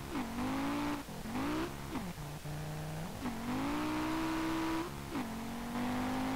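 A sleeper Ford Ka in the racing game SLRR revs and accelerates hard through repeated gear changes, its engine note climbing and dropping in steady loud surges with no talk.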